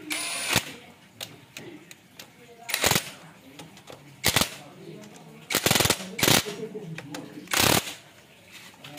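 Tightening a bolt on a Yamaha Mio J scooter: a series of sharp, loud ratcheting bursts and metallic clicks at irregular intervals, close by, with some quieter tool handling between them.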